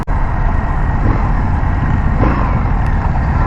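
An Indian FTR 1200 motorcycle engine runs steadily in third gear at about 40 mph, a loud, constant drone with rushing wind noise and no break in pitch.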